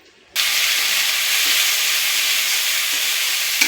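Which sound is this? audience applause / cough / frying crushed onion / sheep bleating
frying crushed onion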